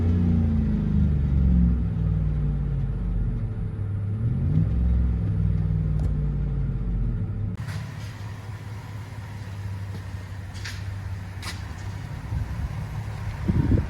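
A 2008 GMC Yukon with a 5.3L V8, dual exhaust, stock GM resonator and deleted muffler idles with a low, steady rumble. The rumble is louder at first, then becomes a muffled, softer drone as heard from inside the cabin.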